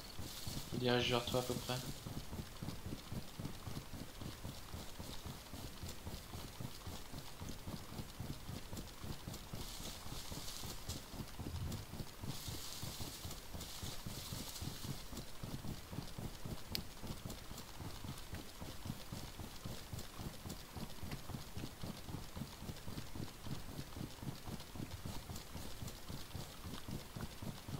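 A galloping horse in a hunting scene gives a steady, fairly faint rhythmic drumming of hoofbeats that runs the whole time under scattered talk between people.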